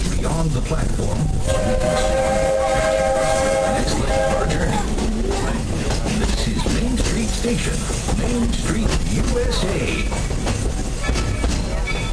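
A Walt Disney World Railroad steam train rolls around the Magic Kingdom. A sustained horn or whistle sounds early, followed by steady rumbling and clattering of the ride over constant park and crowd noise.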